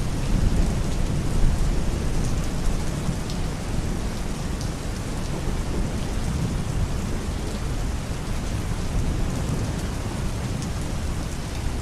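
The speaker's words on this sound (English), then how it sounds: "The rain had been coming down in sheets for hours" Heavy rain pours steadily, mixed with rolling thunder, on a highway in a storm; a dense, loud, continuous wash of noise with no voices.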